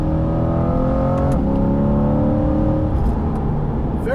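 A C8 Corvette engine revs hard and steady close up, its tone sliding down through a quick manual gear change and then climbing again, with continuous loud mechanical whine.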